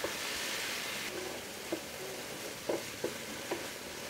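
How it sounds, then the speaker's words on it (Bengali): Spice paste for chicken gravy fries in a pan with a soft, even sizzle and a few light stirring knocks, quiet and close. "মশলার যে পেস্টটা তৈরি করে রেখেছি সেটা দিয়ে দিব। 5 মিনিট রান্না করব।"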